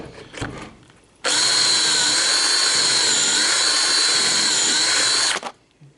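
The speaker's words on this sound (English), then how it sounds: "and then drill out that side." A power drill whirs steadily at high speed for about four seconds, loud and close, drilling pocket holes in a wooden cabinet face frame, starting and stopping abruptly with quiet workshop noise around it.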